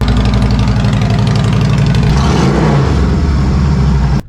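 Harley motorcycle engine with a 1.5 inch pipe and homemade baffle cut completely off, running loud and close with a deep, rapid lumpy exhaust pulse and a brief blip of throttle midway, cutting off abruptly at the end.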